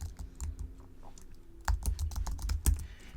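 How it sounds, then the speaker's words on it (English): Someone types a folder name on a computer keyboard, a quick run of clicking keystrokes that is close and moderately loud, with a few sharper key hits near the end and no talking. "We just need to type the folder name."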